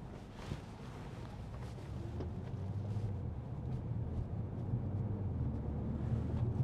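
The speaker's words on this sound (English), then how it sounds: "The sound of the engine, it's so quiet, and the gear changes are almost imperceptible." Inside a 2015 Audi S4 with a 3.0 TFSI V6 and S tronic gearbox on the move, a low, subdued engine hum mixes with road and wind rumble, gradually building.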